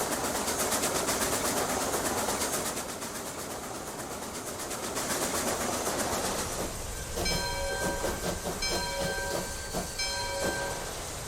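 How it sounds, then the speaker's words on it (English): Trains roll along rails in the Transport Fever 2 game on the White Pass Route, a steady rumbling clatter that gives way to repeated sharp whistle or horn blasts over the running noise. "Once that silver train clears the junction, the prospector train will follow through."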